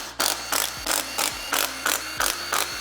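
A ratchet working a bolt on the windage tray of a B58 engine from a Toyota GR Supra, with about eight regular, evenly spaced bursts of rapid clicking, close and clear.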